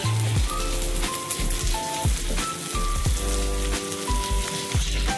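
Food sizzles steadily in a hot pan while prawn-stuffed ash gourd leaf fritters are sautéed, with a continuous crackling hiss, gentle clinks and a low background hum.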